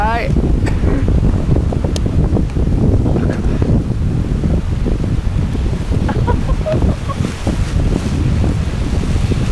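Strong wind gusting across an open hilltop, a loud continuous roar buffeting the microphone throughout with no letup.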